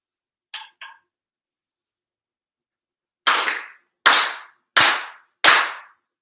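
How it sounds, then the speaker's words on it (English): Four sharp, sincere hand claps ring out one by one at even intervals during a Shinto-style Tenchi Kane no Kami monthly ceremony, crisp and resonant in a quiet room, preceded by two faint short taps. "4 sincere claps"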